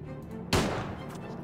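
A single sharp gunshot from the tactical video game Silent Storm cracks out, loud and close, then decays over a rumbling tail against a low background hum.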